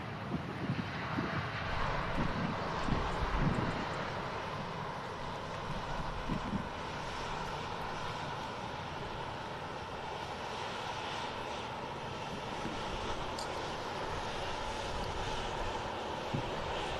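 Ryanair jet airliner on the runway at Manchester Airport, a broad steady engine roar heard from a distance for the whole stretch, with wind buffeting the microphone.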